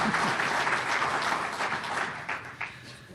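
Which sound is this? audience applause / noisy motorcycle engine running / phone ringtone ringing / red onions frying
audience applause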